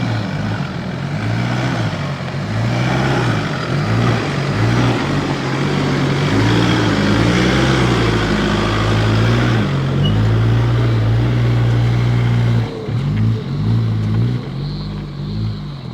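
A vehicle driving a very bumpy, slippery dirt track toward a trig point lookout, its engine droning loud and steady with lurching shifts in pitch as it rocks over the rough ground.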